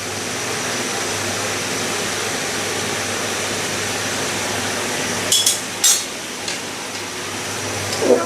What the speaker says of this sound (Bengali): একে একে সব মাছগুলো উল্টিয়ে দেবো